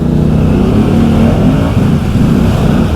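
A Can-Am Outlander 650 ATV revs hard while its wheels hop in soft mud, a loud, continuous engine roar rising and falling in pitch for the whole stretch, with no voices.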